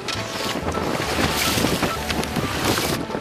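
Strong wind buffets a fishing boat out on the water, a loud, steady roar of wind noise mixed with water wash, close and continuous with no speech.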